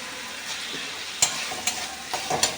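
Chopped tomatoes frying in a pan with ground onion, ginger and garlic paste, a soft steady sizzle broken by several sharp spatula scrapes and clinks against the pan.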